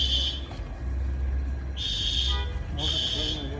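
Electronic alarm buzzer at a site in Mexico, three loud shrill bursts of about half a second to a second, with traffic rumble and people talking in the background.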